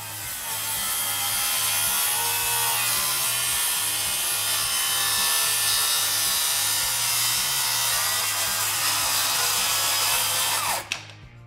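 A power tool cuts steadily through a scrap piece of walnut, a continuous loud whining rasp up close that runs for about eleven seconds before spinning down at the end.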